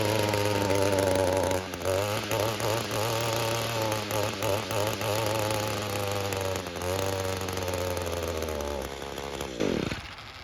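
A warm two-stroke string trimmer engine runs loudly with a buzzing drone, its pitch wavering and surging unevenly before it drops off and winds down near the end.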